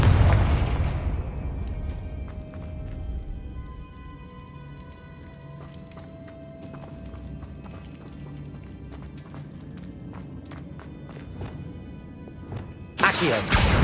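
Confringo fire spell explosion in a Harry Potter video game set at Hogwarts: a loud booming burst opens and fades into shimmering magical tones and scattered crackles, and another sharp blast erupts near the end.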